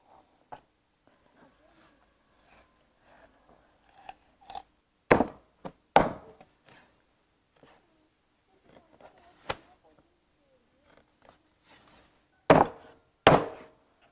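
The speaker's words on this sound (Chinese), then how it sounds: "你看我那个片鱼简直是高手，看可以哈。" A freshly sharpened kitchen knife slices a bighead carp on a cutting board, giving sparse, crisp knocks and thuds at irregular intervals, some louder strikes close together, with a person talking quietly in between.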